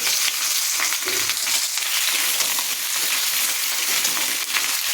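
Potatoes and pointed gourd frying in hot oil in a wok, a loud close crackling sizzle that runs steadily with bright spatter throughout.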